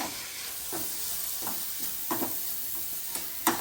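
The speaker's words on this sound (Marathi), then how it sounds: "मम्मीने जे टाकून घेतलेली आहे बटर मध्ये स्वीट कॉर्न टाकले" Sweet corn kernels fry in butter with a steady hiss and sizzle, broken by a few soft scraping stirs in the pan, close by and with no one speaking.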